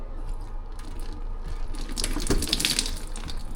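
Water sloshes and gurgles in a clogged pedestal sink that will not drain, with splashing and crackling handling noises growing louder toward the end, close by with no talk.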